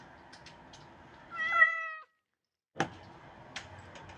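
A cat meows once, a clear drawn-out call lasting under a second, followed by silence and then quiet ticking and small knocks against faint background noise.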